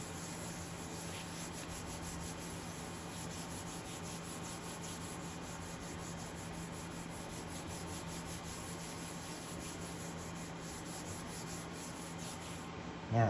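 Steady hand rubbing over a paper bag journal page made from a small paper bag, a soft continuous scrubbing texture at low level with no pauses, alone without talk.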